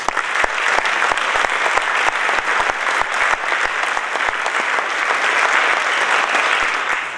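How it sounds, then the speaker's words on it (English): Sustained applause from an audience at a community appreciation night, honoring volunteers; dense, steady clapping holds at an even level throughout with no voices standing out. "just one more big round of applause for all the volunteers that have helped out"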